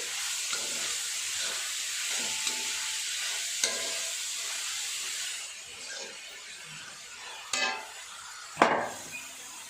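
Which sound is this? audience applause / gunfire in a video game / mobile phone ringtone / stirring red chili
stirring red chili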